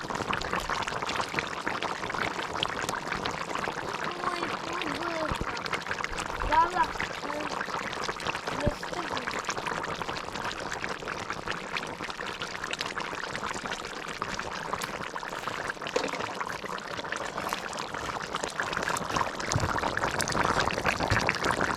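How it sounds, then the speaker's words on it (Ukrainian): Cream is poured into a lamb stew with vegetables simmering in a cast kazan cauldron, a steady, continuous liquid pour and bubbling lasting about twenty seconds at close range. "Додаємо сливочки"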